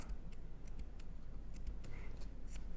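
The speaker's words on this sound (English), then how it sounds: "So I'm going to cut off all of this extra." Scissors snip off the excess tips of paracord on a rosary, a few faint, sharp clicks spaced over a quiet, steady background hum.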